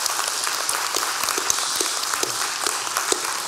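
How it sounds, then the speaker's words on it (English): A church congregation applauding during a service, with dense, continuous clapping from a crowd in a large room and a few sharper individual claps standing out near the front. "We can give them a big applause."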